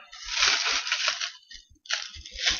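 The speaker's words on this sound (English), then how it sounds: "I got a plastic bag." A plastic bag crinkles and rustles as it is handled up close, in two bursts of crackling with a short pause between them.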